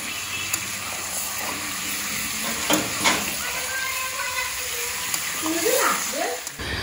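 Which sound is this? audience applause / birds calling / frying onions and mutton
frying onions and mutton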